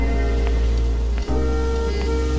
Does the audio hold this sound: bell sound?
no